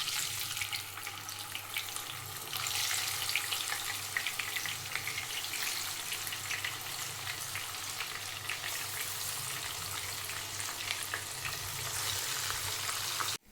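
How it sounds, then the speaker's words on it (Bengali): Fish pieces fry in hot mustard oil with a dense, steady sizzle heard up close, unbroken and even until it cuts off abruptly at the end. "একে একে মাছগুলোকে ভেজে নেব।"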